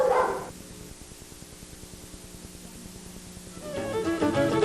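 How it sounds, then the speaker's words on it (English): Dogs in a row of kennels bark rhythmically and repetitively, close by, with a louder burst of barking at the start and again toward the end over a busy, echoing background. "kennel-crazy dogs, rhythmic, repetitive barking and spinning"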